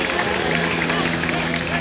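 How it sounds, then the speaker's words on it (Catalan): Loud, steady applause and cheering from a crowd of spectators at a motorcycle trial exhibition in La Bisbal, a dense continuous wash of clapping with a low engine-like hum underneath. "Fort aplaudiment!"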